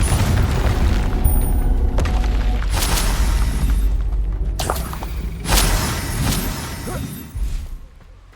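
Confringo fire-spell blasts from the Hogwarts Legacy video game burst as several loud booming explosions, with sharp impacts around the middle and later in the sequence over a rumbling low background.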